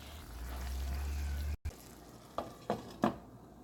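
Salted curried rice cooking in a pot over medium heat gives a soft, steady sizzle. After a brief cut come three sharp clicks, like a utensil or lid against the pot, with no talking.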